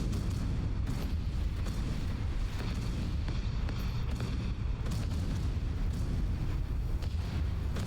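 Explosions as a harbour is destroyed in the Roblox strategy game Mini Empires: a continuous loud roar of booming blasts and rumbling, dense and sustained throughout with no talking.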